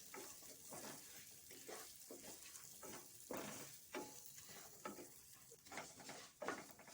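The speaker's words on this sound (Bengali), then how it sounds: "এবার মুগ ডালটাকে আমি ভেজে নেব।" Mung dal frying and being stirred in a hot pan, a steady close sizzle with repeated scraping strokes of the spatula throughout, no talking.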